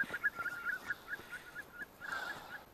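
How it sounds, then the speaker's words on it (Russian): Geese honk repeatedly during a spring hunt, a string of short nasal calls heard at a moderate distance with no voices over them. "Я слышал, что он так гагак."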